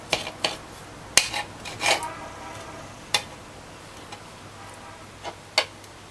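Knife chopping fruit on a board for a Christmas fruit cake, scattered crisp taps and clicks at an uneven pace, fairly close, over a low steady background hum.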